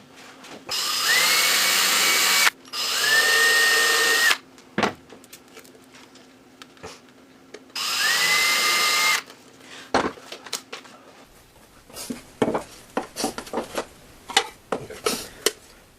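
A power drill drilling holes in wood whirs in three loud bursts, a couple of seconds each, followed by knocks and clattering as wood and tools are handled.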